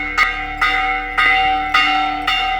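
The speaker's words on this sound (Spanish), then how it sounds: "Están tocando las campanas del pueblo porque hay un ataque." Heavy village church bells ring an alarm during an attack in Nicaragua, clanging in a steady repeated rhythm, five loud strikes whose resonant tones linger and blend together.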